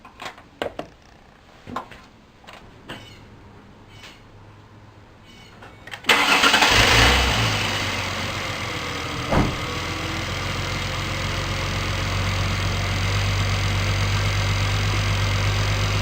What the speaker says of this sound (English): we're gonna start the engine